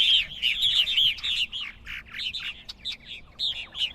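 Purple martins call over a farm colony, a dense run of bright chirps and warbling notes overlapping one after another, fairly close and steady throughout with no talking.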